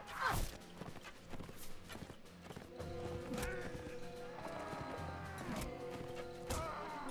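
Horse hooves thud and clatter in the medieval combat game Mount and Blade Warband, scattered knocks under game music tones and faint battle clashes, fairly quiet overall.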